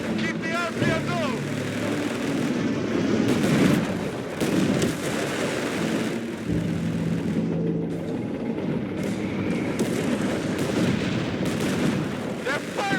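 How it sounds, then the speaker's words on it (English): Gunfire and artillery blasts from the Company of Heroes 3 video game, in a North Africa Gazala battle, break out in repeated bursts under shouted voices. "They're firing tracers!"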